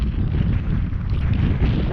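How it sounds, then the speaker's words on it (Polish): Strong, steady wind buffets the microphone near dunes with a constant low roar and rumble, loud throughout with no letup and no voices. "Straszny wiatr. Wieje"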